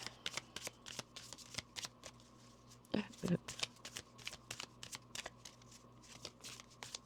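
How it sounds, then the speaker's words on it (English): Angel oracle cards are shuffled in a quick riffling patter, up close, with a louder handling burst midway as a card is pulled. "I'm going to pull an angel card and then as a closing card"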